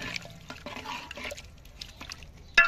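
Water is poured into a pot of goat head meat for a siri paye recipe, a soft splashing trickle with faint drips and clatter, ending in a louder splash.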